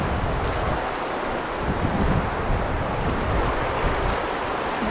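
Strong river current rushing past in a large river, a dense churning wash of water with gusty wind buffeting the microphone, steady and close with no talking.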